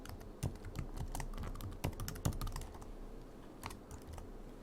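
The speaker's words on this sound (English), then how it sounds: "you can just start typing immediately" Quiet, rapid clicking of keys on a computer keyboard in an irregular typing rhythm, with a few louder taps, no talking.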